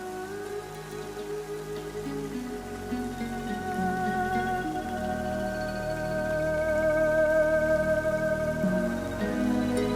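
Rain pattering steadily on a surface, a dense wash of drops over a low hum, growing slightly louder throughout with no one speaking.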